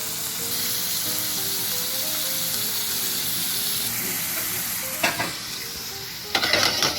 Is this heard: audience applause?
no